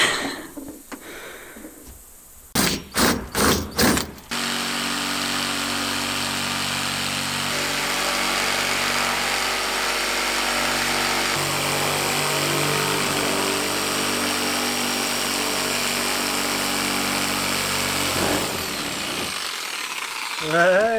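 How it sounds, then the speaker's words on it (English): A power drill bores a hole in thin plastic in a few quick, loud bursts, then a jigsaw cuts through the sheet with a steady, close, buzzing whine for about fourteen seconds before stopping, during off-grid homestead building work in Portugal. "make a hole, and then jigsaw the whole thing off"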